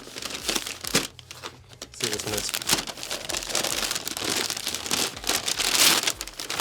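Thick paper wrapping is crinkled, torn and pulled away from denim items, loud close rustling that runs almost without pause while a person speaks briefly.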